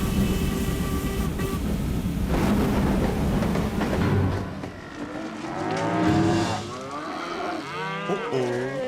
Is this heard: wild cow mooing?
yes